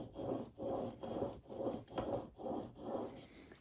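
A chisel held in a Mohoo honing guide is pushed back and forth across a fine 8000-grit whetstone, giving a steady rhythmic rasp of about seven close, even strokes with brief pauses between them.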